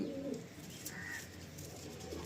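A female pigeon coos close by, low soft throaty calls repeating over a steady background hum.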